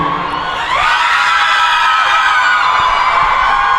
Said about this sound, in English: Look at this amazing crowd.